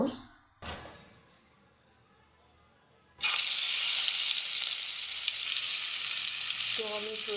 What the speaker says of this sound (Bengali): আমি এখন মাংসগুলোকে ভেজে নিব